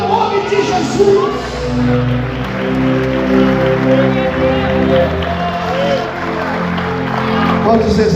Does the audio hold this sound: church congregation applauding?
yes